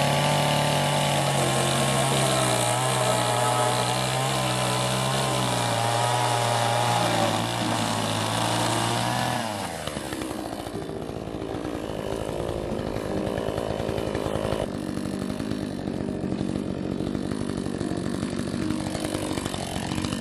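A chainsaw, a Husqvarna or an Echo, runs loudly with a buzzing engine whine that holds steady, then drops and shifts in pitch partway through, with voices faintly underneath.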